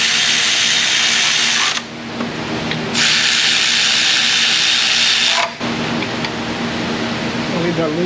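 Power tool tightening flywheel bolts in an auto repair shop during a rust repair job, with loud sustained whirring bursts broken by two short pauses and ratcheting clicks.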